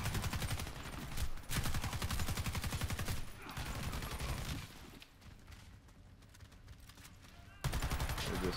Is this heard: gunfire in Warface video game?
yes